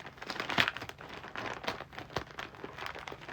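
Strong packing tape being torn and crinkled off a package that is stuck fast, giving close, irregular crackling and ripping bursts with one sharper tear near the start.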